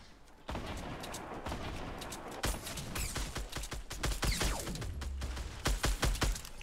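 Rapid bursts of gunfire crack out repeatedly during a Fortnite squad fight, with sharp overlapping shots clustered near the start and a denser, louder volley toward the end.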